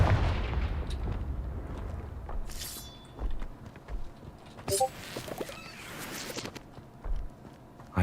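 Confringo fire spell blasts from Hogwarts Legacy, a few sharp bursts around mid-clip standing out over a busy game soundscape of rumbling ambience and scattered effects.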